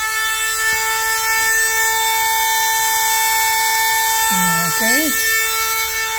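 Cutting a hole for the transmission shift indicator in a Ford Anglia street rod in a garage: a steady, droning tool whine runs throughout, with a brief spoken word near the end.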